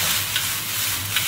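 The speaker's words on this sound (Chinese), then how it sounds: "放一点蒜，爆一下以后放土豆丝" Shredded potatoes tossed with garlic in hot oil in a home wok, giving a steady close sizzle with a soft stirring scrape now and then, no voices.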